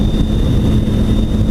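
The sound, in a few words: car driving along a lake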